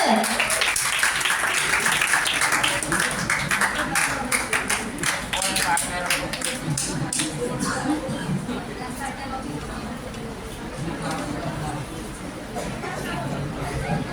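An audience at a college Teachers Day celebration claps steadily and fairly loudly for a student about to recite poetry, with crowd chatter mixed in; the clapping thins out toward the end.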